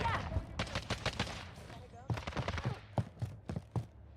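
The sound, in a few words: gunfire in Call of Duty Warzone 2 video game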